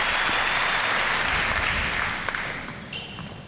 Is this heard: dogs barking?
no